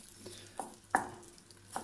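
A spoon scraping and knocking in a pot as chicken thighs and cauliflower are stirred over low heat, a few quick clinks over a soft sizzle.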